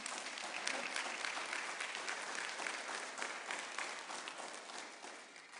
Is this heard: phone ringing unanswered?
no